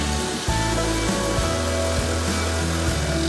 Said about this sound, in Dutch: We beginnen nu met het doorzagen van de tussenstijl van het kozijn.